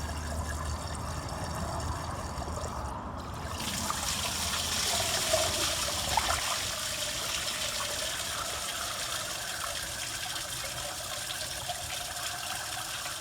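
Water flushes through the engine block of a Ford Model T during a radiator replacement, making a steady rushing, gurgling flow that carries on continuously and swells slightly partway through, with no talk.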